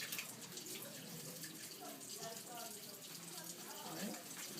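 A tap runs water into a denture cup to rinse it clean, a steady broadband hiss that continues throughout, with a voice faintly audible underneath.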